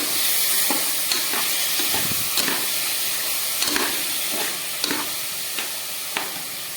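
Tomato pieces frying in a pan for aloo curry: a continuous close hiss and sizzle with occasional soft scrapes and taps of a spoon, and no voices.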